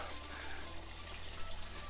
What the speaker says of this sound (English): Just turned on the pump, and as you can see, the waterfall spillway, that laminate flow is going to come out.